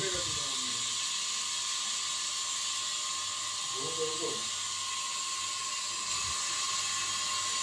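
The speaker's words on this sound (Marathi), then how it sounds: "कढीपत्ता आपण टाकत आहोत" Curry leaves hit hot cooking oil and give off a steady, loud sizzling hiss that runs throughout, with a brief voice murmur partway through.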